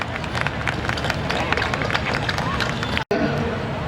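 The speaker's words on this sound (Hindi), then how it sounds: "आपने अभी जो घनघोर तालियां बजाई हैं" A large audience claps vigorously at a Rotary-sponsored literary and social gathering in Panvel, dense continuous applause with crowd murmur that cuts out briefly near the end.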